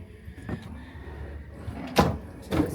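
Drawers in a cruise ship cabin aboard Royal Caribbean's Wonder of the Seas slide and knock shut, giving a few short, close wooden thumps and scrapes against a quiet room hum.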